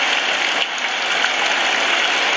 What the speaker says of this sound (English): Then we have the rain.